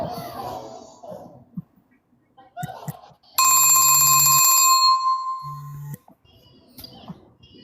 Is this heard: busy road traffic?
no